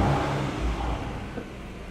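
A new 2-billion-rupiah car engine is started, giving a steady mid-to-low engine rumble with a slight rev, heard up close and alone for about two seconds.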